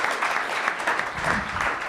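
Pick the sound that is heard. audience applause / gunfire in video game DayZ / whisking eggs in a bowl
audience applause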